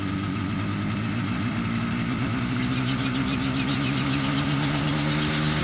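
A homemade helicopter's engine runs steadily during ground testing, a loud, continuous mechanical drone with a wavering, pulsing tone throughout.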